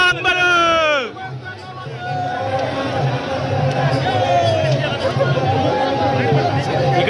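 A dense crowd packs the Jotiba temple in Kolhapur during the Chaitra Yatra, producing a loud, continuous babble of many voices with a brief whistle-like tone at the start and constant shuffling movement.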